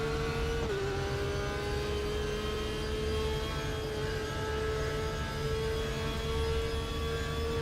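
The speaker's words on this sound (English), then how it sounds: "They sound really good actually, the Ford GTs." A Ford GT engine in the RaceRoom racing game hums at fairly steady revs with a tonal whine, heard faintly with a brief gear shift early on and no talking.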